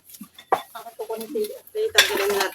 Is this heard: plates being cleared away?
yes